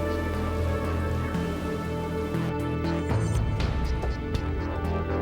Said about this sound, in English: we had quite a big setup there to create rain